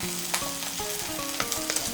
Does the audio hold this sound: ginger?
yes